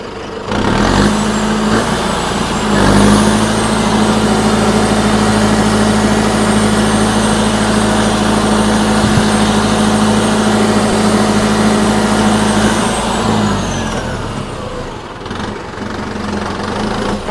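A turbocharged tractor engine labours steadily in medium gear while working a field, a loud continuous drone with a strong low hum and a pitch rise near the start, easing off toward the end.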